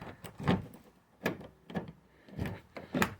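A series of short mechanical clunks and clicks repeating at irregular intervals, close by and fairly quiet, as a repaired driver's door lock on a Citroen Nemo-type van cycles locked and unlocked.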